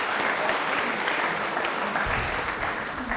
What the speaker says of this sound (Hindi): एक बार तालियां के लिए एक बार बजा दीजिए भाई